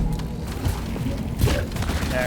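Gunfire from Bosco, the drone companion in the video game Deep Rock Galactic, fires in rapid bursts over a busy battle din while a player talks.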